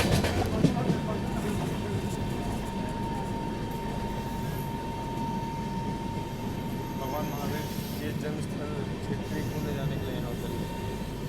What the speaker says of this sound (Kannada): ಅದೊಂದು ಲೋಕಲ್ ಟ್ರೈನ್ ಹೋಗ್ತಾ